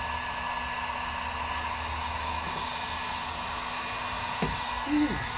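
A heat gun blows a steady, close airflow roar onto a C6 Corvette badge, holding an even whooshing hum throughout with a couple of faint knocks near the end.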